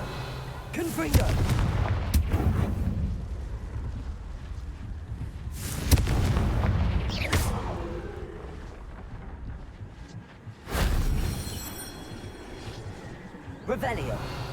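Confringo blasting spell explosions in Hogwarts Legacy, several sharp booming bursts spaced a few seconds apart amid game ambience, with someone talking in between.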